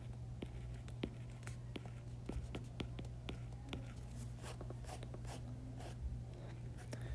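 Quiet writing on a board during a maths lesson on series: soft irregular taps and scratchy strokes over a steady low hum, with no voice.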